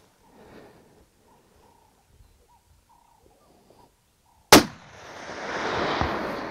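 On an African safari hunt, a single rifle shot cracks sharply and loudly after near-silence and faint murmurs, followed by a rolling echo across the bush as the animal is hit.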